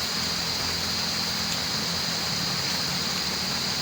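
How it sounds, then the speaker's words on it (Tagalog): Raindrops fall steadily on leaves at a nature campsite, a soft continuous hiss of patter with no distinct drops standing out, accompanied by a faint high steady insect drone. "Yung bagsak ng mga patak ng ulan sa dahon."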